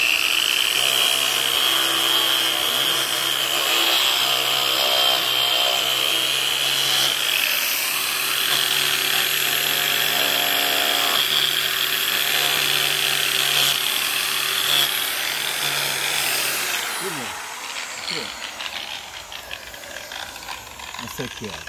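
A power tool sands a piece of wood with natural cracks, giving a steady, loud, droning mechanical whine for most of the clip before it winds down into scraping and handling noises near the end, with possible talking.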